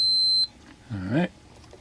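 Multimeter continuity test on caboose light wiring for a Lionel model train, giving one short steady electronic beep, followed by a brief faint voiced sound.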